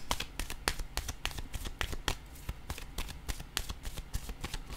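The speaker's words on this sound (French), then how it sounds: "je vais déposer une autre carte ici." Tarot cards handled and laid down on a table, a quick run of crisp, close papery snaps and flicks in an irregular rhythm, like cards being shuffled and set out, with no voice.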